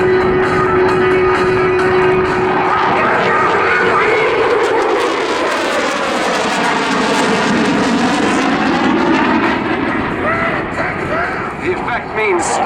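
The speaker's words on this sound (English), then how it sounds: "This absolutely fabulous aircraft, showcasing its supreme capability" A display aircraft roars past at an airshow, a loud sustained engine rush that swells and shifts in pitch as it passes, with a commentator talking over it.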